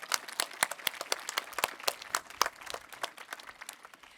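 At a 2022 commencement ceremony, a small group claps in sparse, uneven bursts, each sharp slap distinct rather than merged into a roar, fairly quiet and close.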